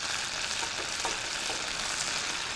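Minced garlic fries in a pan for a vegetable dish, an even, close sizzling hiss with faint crackles, steady for a couple of seconds without speech.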